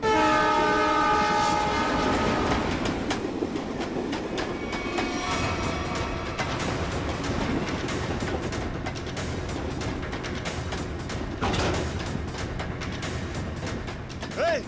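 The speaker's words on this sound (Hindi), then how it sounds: "काबिल, ट्रेन 16 मिनट में स्टेशन पहुंच जाएगी।" A train approaching a station sounds its horn in long sustained tones at the start, then rolls on with steady rumbling and rhythmic clatter of railroad cars at moderate distance, with no talk.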